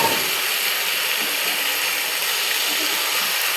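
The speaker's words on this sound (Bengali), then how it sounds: "ম্যারিনেট করে রাখা মাংসটা আমি কিন্তু গরম কড়াইয়ে ঢেলে দিচ্ছি" Marinated chicken frying in a hot kadai gives a loud, steady, close sizzle with dense hissing throughout and no voices.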